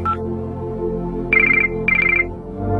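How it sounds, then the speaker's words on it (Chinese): A telephone ringtone trills in two or three short, bright bursts over steady background music, with nobody speaking. "没事，你接电话吧。"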